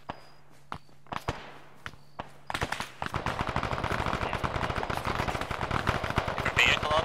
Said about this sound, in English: Deal with whatever shot at us.